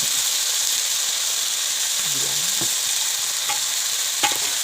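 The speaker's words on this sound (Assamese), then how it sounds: "আজি আমি ছজিনা ফুল ভাজিছোঁ।" Drumstick (sajina) flowers frying in a pan give off a steady, close, even sizzle with a faint stir or scrape partway through. No one speaks.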